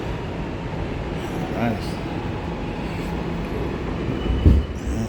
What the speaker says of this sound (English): Beautiful trains, man. Love these trains better than the other ones.